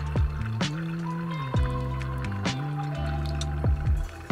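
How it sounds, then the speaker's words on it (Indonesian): Hot water pours over a Kalita paper coffee filter in intermittent streams, with splashes and gurgling, resonant tones rising and falling between the pours. The sound is close and fairly loud, and no one speaks. "kalian boleh siram air panas untuk ngilangin rasa kertasnya"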